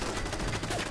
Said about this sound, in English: Holy crap, that turret is really strong. And it shoots me from everywhere.